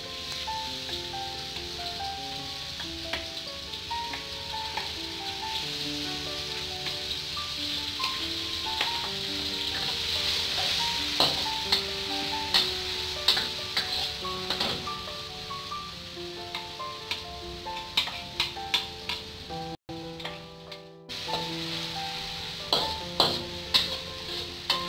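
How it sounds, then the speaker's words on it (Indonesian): Chilies stir-fry in a pan for a dry sambal of anchovies and stink beans, giving a steady sizzle with scattered clicks of stirring under soft background music. "aku akan tumis cabenya dulu"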